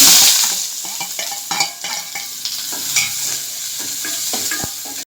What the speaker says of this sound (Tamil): கடுகு போட்டுக்கலாம். வெங்காயம், பச்சை மிளகா, கருவேப்பிலை போட்டு வதக்கி